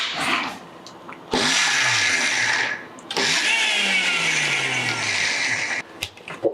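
A mixer grinder whirs in two short bursts of a few seconds each, loud and close, with brief pauses and clicks between pulses.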